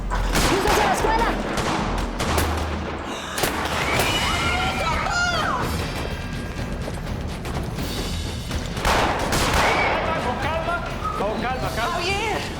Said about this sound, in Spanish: Están disparando por todas partes.